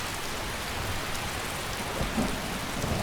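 Steady rain pours down in the Skyrim video game, a dense, continuous hiss of drops filling the scene with a faint low rumble underneath, no voices present.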